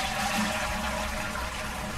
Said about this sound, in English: that just flushed one of the toilets? It did. It flushed the blood toilet.